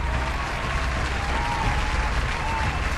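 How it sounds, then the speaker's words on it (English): A crowd breaks into a round of applause, a dense continuous wash of clapping holding steady at even loudness for the whole stretch, with no distinct voices on top. "A round of applause for them, please"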